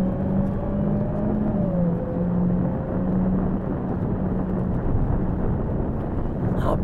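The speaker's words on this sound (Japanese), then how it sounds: "本当に GT500 並みの加速だよこれ" An 800 hp Dodge Challenger SRT Hellcat muscle car accelerates hard, a steady loud engine roar with a rising whine that drops slightly as it shifts, heard from inside over constant road noise.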